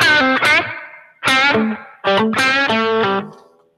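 Electric guitar through a Line 6 HX Stomp with spring reverb placed before the amp, played as a few sustained notes and chords in three bursts, each ringing out and decaying into a trailing reverb tail.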